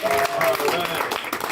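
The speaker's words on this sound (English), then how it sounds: "Make some noise for him, everybody." Comedy club audience breaking into brisk, close applause, a dense wash of clapping with some voices mixed in throughout.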